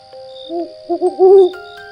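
An owl gives several soft, wavering hoots close by, the last one longest and loudest, over a faint steady high tone.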